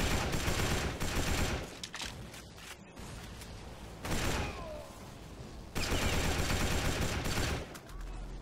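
Machine gun fire in the Battle for the Pacific video game on Xbox 360, set on Iwo Jima: dense bursts of rapid gunfire in loud clusters separated by quieter gaps, with a heavy rumbling battle din underneath.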